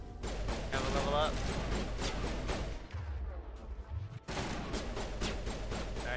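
Rapid bursts of gunfire in the video game Mass Effect Legendary Edition, loud overlapping shots with a brief lull midway before firing resumes, with a voice talking underneath.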